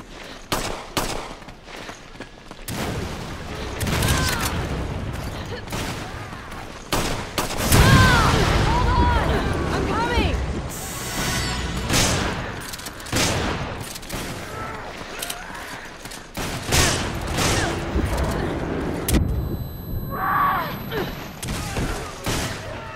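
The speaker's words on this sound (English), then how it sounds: "I can hear gunfire" Bursts of automatic gunfire and scattered shots from Resident Evil 5 versus mode, loud and continuous with booms and mechanical clatter, a voice briefly heard.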